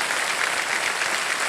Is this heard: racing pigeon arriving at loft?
no